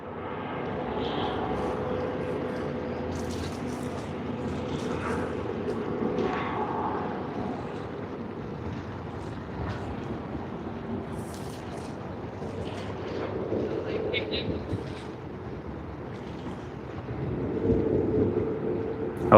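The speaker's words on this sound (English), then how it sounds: "we have Qantas's Boeing 787-9 Dreamliner coming in from Vancouver" Qantas Boeing 787-9 Dreamliner airliner arriving at Sydney Airport in the early morning, a distant, steady low rumble of jet engines that swells and fades over a long stretch, with no voices.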